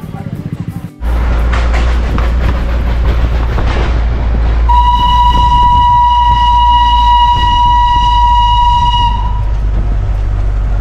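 The Darjeeling toy train runs at Batasia Loop with loud, close rumbling and wheel clatter. A sustained whistle sounds for several seconds midway, then the rumble continues.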